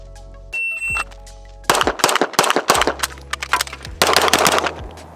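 Rifle gunshots fired during a shooting drill, a series of loud, sharp reports in quick succession, each followed by a short echo, with a brief electronic beep just before the volley begins.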